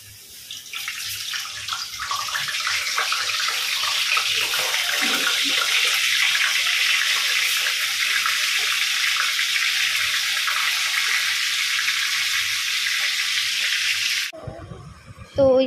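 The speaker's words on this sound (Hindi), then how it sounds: "कलौजी को तेल में ही तो डालना है" Kalonji tossed into hot oil in a home kitchen sizzles in a steady, bright hiss for about fourteen seconds, close and fairly loud, then cuts off suddenly with a brief bump of noise at the end.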